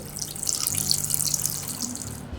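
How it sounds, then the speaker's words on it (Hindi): Water pours steadily into a pan in a home kitchen, a continuous bright splashing stream heard close up and alone for a couple of seconds while water is gathered to cook spaghetti. "सबसे पहले हम एक पैन में अच्छे से पानी ले लेंगे"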